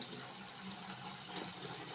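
Two liters of water poured into a container during a natural farming training session, a continuous close gushing stream of moderate loudness with no pauses.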